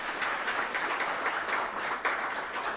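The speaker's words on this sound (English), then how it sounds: "If you could give them an applause." Steady audience applause at the close of a session on synthetic turf and human health, a continuous wash of many hands clapping at moderate volume for a few seconds.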